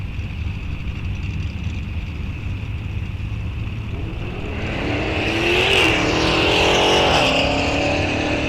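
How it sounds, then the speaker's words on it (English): A 1969 Plymouth Barracuda and 1968 Dodge Dart launch down a drag strip at Rock Falls Raceway, their muscle-car engines rising from a low rumble to a loud, roaring acceleration that swells toward the end. "All Mopar matchup here. 69 Barracuda left side, 68 Dart right side."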